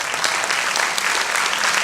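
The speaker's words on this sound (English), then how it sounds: "I'll give her a little round of applause" A comedy club audience gives a short, warm round of applause, dense even clapping filling the whole moment without talk.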